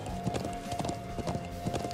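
Horses gallop in Trails of Cold Steel, a steady, rhythmic clatter of hoofbeats up close over a sustained background tone.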